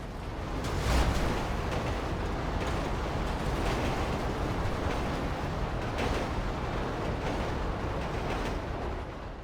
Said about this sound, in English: what if it's parked and the train just hits it?